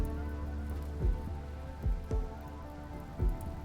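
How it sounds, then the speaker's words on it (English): Rain falls steadily in the video game RimWorld as a soft, constant patter, while a few low thuds break in now and then over the wash of the rain. "Glad it's raining so that at least this fire doesn't cause problems."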